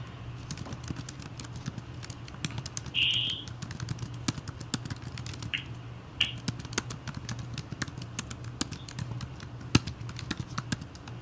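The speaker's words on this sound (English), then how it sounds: "I'm typing" Steady, close-up typing on a computer keyboard, a fast patter of soft clicks over a low hum, with a couple of brief brighter ticks.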